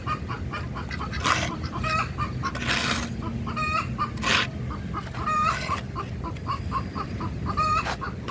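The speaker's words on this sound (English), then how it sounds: "That's my hen, Debbie." A hen clucks repeatedly in short, rhythmic bursts, fairly close, with a few louder squawks mixed in over a steady outdoor background.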